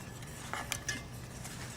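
A utensil stirs grated cheese into a sauce for baked macaroni and cheese in a pot, faint scraping with a few soft clinks against the pan over a quiet background.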